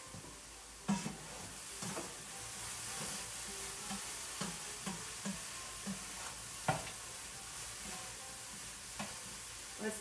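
A rubber whisk working batter in a rubber bowl for a breakfast casserole, soft repeated dull strokes in an uneven rhythm over a faint hiss, close but quiet, with no talking.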